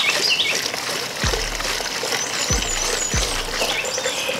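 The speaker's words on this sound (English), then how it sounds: "How am I still pouring fuel?" Fuel pouring into the tank of an E36 BMW, a steady close gurgling trickle with a few low knocks along the way.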